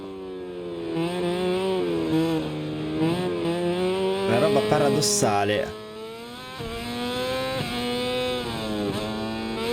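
A Honda MotoGP bike's engine in the racing game MotoGP 22 at Le Mans, rising and falling high-pitched revs through gear changes, with someone talking over it throughout.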